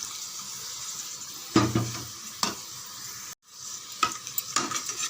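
A spoon scrapes and stirs through a pot of carrot and radish sambar with tamarind in a few distinct strokes, close by, with soft bubbling and hiss between them and no talking.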